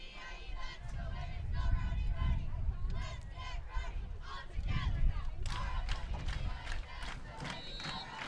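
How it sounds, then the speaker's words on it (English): Home crowd at a Mandan high school football game, a thinned attendance, giving a steady wash of murmuring voices and shouts that swell with cheers and yells, with loud bursts of crowd noise rising and falling across the stands. "Unique atmosphere here at Mandan tonight's football crowd."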